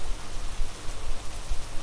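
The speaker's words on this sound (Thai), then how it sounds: "ไปหลบฝนก่อนดีกว่าครับ" Rain falls steadily in the survival video game Hurtworld, a dense, even hiss of rainfall with no other sounds.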